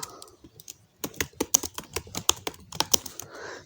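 Computer keyboard being typed on in MS Word, giving a close, quick burst of uneven key clacks with short pauses, crisp and fairly loud in a quiet room.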